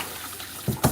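Paintbrush dunked into a water container to rinse off house paint, giving two short wet splashes near the end, the second louder, after a quiet stretch.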